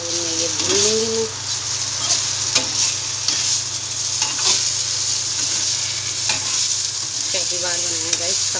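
Chopped leaves frying in a cooked spice masala crackle and sizzle loudly and continuously up close, with repeated stirring scrapes, a low background hum and a few brief squeaky tones.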